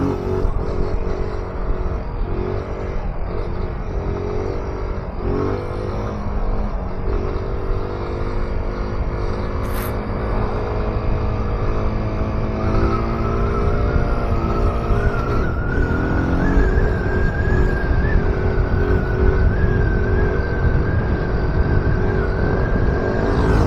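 Engine of a new motorcycle revving under throttle while riding, a continuous loud droning tone whose pitch rises and shifts steadily, with no voices heard.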